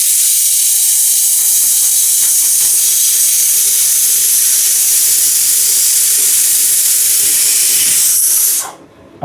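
A pressure cooker of mutton curry vents steam in a loud, continuous hissing jet right up close, holding steady for several seconds before cutting off abruptly into quiet.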